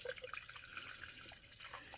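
Tap water poured into the rear reservoir of a Farberware 5-cup programmable coffee maker gives a soft, continuous trickling and splashing, quiet and close, with no talk.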